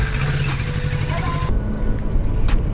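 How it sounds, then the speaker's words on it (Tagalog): A motorcycle rides on the road with a newly installed chain, its engine and wind noise loud and continuous, and the tone shifts partway through. "testing out the newly installed chain sa ating motor"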